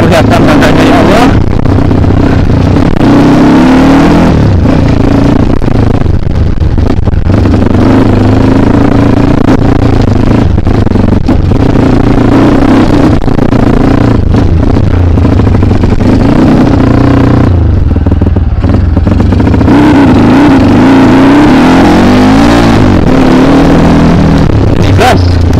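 A Kawasaki KLX dirt bike with an MP mono engine revs hard on an enduro hill climb at Bukit Cumbri, its loud engine droning and surging throughout while voices talk over it.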